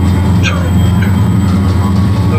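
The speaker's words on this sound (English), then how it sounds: "And this train's driving us right out of here." A train running in the Trainz railroad simulator game gives a steady, low mechanical rumble that drones evenly throughout, with faint higher squeals drifting above it.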